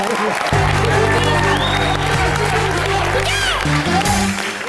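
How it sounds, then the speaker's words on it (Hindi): Studio audience applause on a Hindi TV comedy roast show, clapping and crowd noise under loud music with tonal sweeps and effects. "उनके लिए जोरदार तालियां।"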